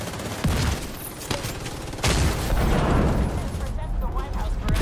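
Rapid, dense gunfire from a Call of Duty match, sustained bursts and heavy booms filling the mix while players talk over the shooting.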